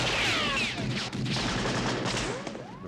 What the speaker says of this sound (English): The actual Indiana Jones gunshot was a .30-30 Winchester rifle that was recorded.